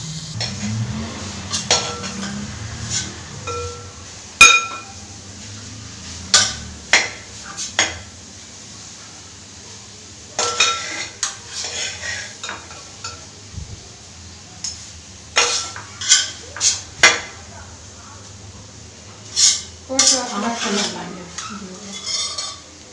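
Capsicum masala is stirred together with cooked rice in a pan, producing repeated scraping clinks of a spoon against metal over a low background hum, with a voice speaking briefly near the end.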